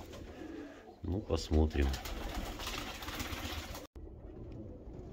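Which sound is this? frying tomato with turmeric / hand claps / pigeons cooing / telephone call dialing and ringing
pigeons cooing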